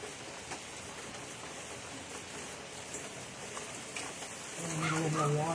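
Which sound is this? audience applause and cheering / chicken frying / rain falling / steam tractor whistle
rain falling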